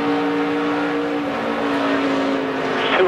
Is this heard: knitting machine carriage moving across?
no